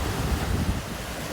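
Surf and wind at the seaside by Tansa Oasis, a steady broadband wash of waves rolling continuously, fairly loud and close with wind rumble on the microphone, no voices.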